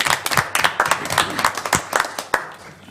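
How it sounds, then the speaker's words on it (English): Council meeting audience and members clap, a fairly small group producing distinct, uneven handclaps that come in bursts and thin out toward the end. "I think that's worthy of an applause by this council and our folks"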